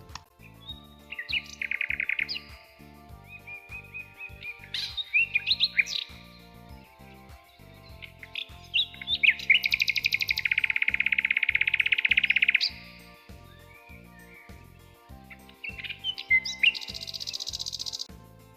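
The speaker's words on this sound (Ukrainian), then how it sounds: "Так, це співали для нас пташки." Birds chirp and trill in bright bursts over a soft, steady background tone, the calls coming and going with a long sustained warble in the middle.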